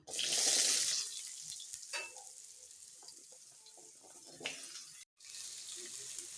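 A loud burst of sizzling as cut potatoes hit hot oil after tempering spices, settling into a quieter steady fry with a few clatters and a brief dropout.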